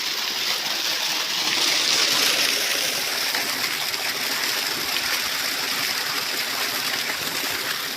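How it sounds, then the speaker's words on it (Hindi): Water gushing steadily from a borewell at an outdoor farm site, a loud, continuous rushing flow with no breaks, heard up close. "वल पानी दिखे हैं बोर का।"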